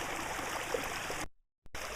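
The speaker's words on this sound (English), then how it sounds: "I will open it up, what's blocked, to get as much water going as I easily can at the moment" Water from a stream pours steadily toward a water wheel near a hut and falls, a dense continuous rush that cuts out abruptly to silence, then resumes near the end.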